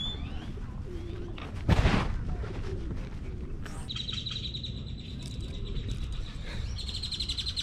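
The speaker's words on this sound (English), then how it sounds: "People are out feeding the birds." Birds gathering where people feed them in a park, with cooing and chirping alongside a brief loud thump and steady outdoor background noise.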